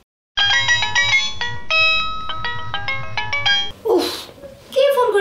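A mobile phone in a Bangla TV drama plays a bright, repeating melodic ringtone for several seconds before voices briefly break in, and the ringing resumes afterward.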